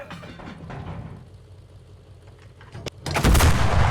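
Super Pershing tank firing APCR rounds in the video game Enlisted: battlefield rumble and distant shots, then a single loud, heavy cannon blast with a sustained roar near the end.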